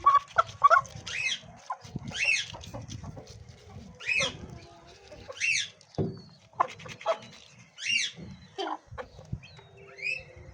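Chickens cluck in repeated short bursts at close range, with a few louder squawks and quieter pauses between calls, while soft handling noise runs underneath.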